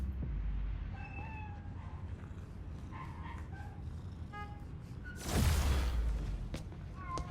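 Bodega cat meowing in the video game Spider-Man: Miles Morales, several short high mews scattered over a busy background, followed by a brief loud whoosh.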